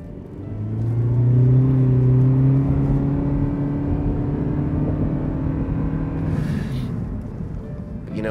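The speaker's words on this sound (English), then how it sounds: "you do get an unpleasant drone from the engine" A 2023 Toyota Prius hybrid engine drones loudly and steadily as it accelerates, a sustained monotonous hum with a faint whir rising underneath.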